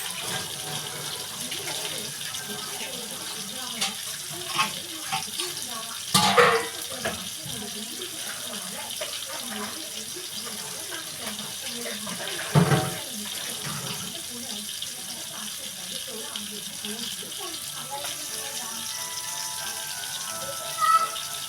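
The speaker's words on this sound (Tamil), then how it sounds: "இந்த கையை கழுவுறதுக்கு 10 வாட்டி கழுவு." Water running steadily from a tap into a sink as hands are washed in a home kitchen after cooking, a continuous soft splashing stream with a couple of brief louder splashes.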